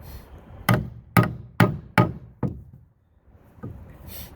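A wood chisel is struck to cut a square notch in wood: five sharp, evenly spaced knocks ring out up close, followed after a pause by one softer tap, with quiet room tone between.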